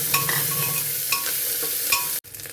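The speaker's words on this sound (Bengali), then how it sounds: "দেখো একটু ভাজা হয়ে গেলে এবার গাজর কুচিটা দিয়ে দিচ্ছি।" Chopped carrots sizzle in hot oil in a pan alongside cashews and raisins for Bengali khichuri, with a continuous close frying hiss and a few sharp clinks and scrapes of a spoon, then a sudden brief dropout.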